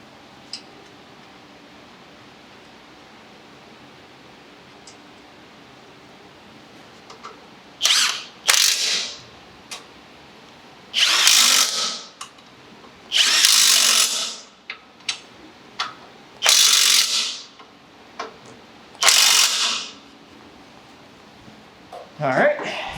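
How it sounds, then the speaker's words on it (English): Bolts are driven back in on a 2018 Honda Civic Si during a CV axle replacement, with a power tool firing in several short, loud bursts separated by quiet gaps. "Now we can put our bolts back in."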